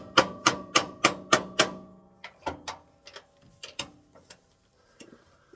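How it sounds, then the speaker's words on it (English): A hammer drives a walnut desk-leg blank onto the four spurs of a wood lathe headstock: six sharp, evenly spaced strikes in quick succession, then a looser scatter of lighter taps and knocks. "I'm just going to hit it with a hammer a couple times"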